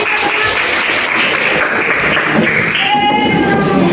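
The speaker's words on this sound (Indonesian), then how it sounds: "Terima kasih tepuk tangan" A classroom audience applauds with steady, continuous clapping that fills the room, with a few voices calling out near the end.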